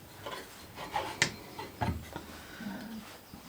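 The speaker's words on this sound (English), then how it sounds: "tighten a bit with the spanner" Spanner tightening a router collet nut on a Triton JOF001 compact plunge router: a few close metallic clicks and scrapes of tool on metal, irregularly spaced, with soft handling rustle between.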